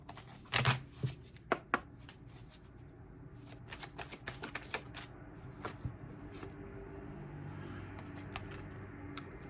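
Tarot cards are shuffled close by in quick riffling bursts and sharp flicks, loudest early on, then softer taps and slides over a low room hum.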